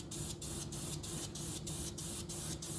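An airbrush sprays thinned paint onto a model of a Russian Navy Project 955 Dolgoruky submarine, giving a continuous close hiss broken by regular brief dips at an even rhythm, with no voices.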